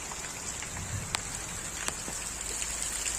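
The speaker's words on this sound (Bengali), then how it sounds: "বৃষ্টি আর বৃষ্টি" Steady rain falls outdoors in an even, close hiss, with a few sharper drops landing near the microphone.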